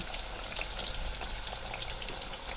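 Continuous crackling sizzle of zucchini half-frying in hot oil, steady and close, with no talking.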